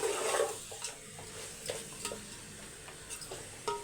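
Chicken pieces for biryani sautéing in a pan, with a soft sizzle and scattered scraping stirs and clinks of a utensil against the pan, close and fairly quiet.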